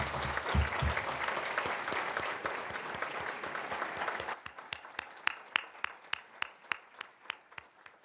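An audience at a scholarship celebration applauds a student's parents: a full, dense round of clapping that suddenly thins out to a handful of separate, sharp claps that carry on at a steady pace.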